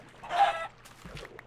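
Chickens in the Minecraft video game cluck, one loud close squawk followed by a couple of softer short clucks.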